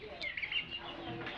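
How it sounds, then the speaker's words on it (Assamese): A turkey kept among backyard poultry gives a brief, faint call of a few short cries over quiet surroundings. "এইটো হ'ল টাৰ্কি।"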